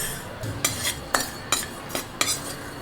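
Ajwain seeds dry-roasting in a pan, stirred with a utensil that scrapes and clinks against the metal in about six evenly spaced strokes over a faint hiss.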